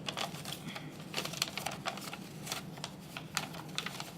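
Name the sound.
folding paper for origami Millennium Falcon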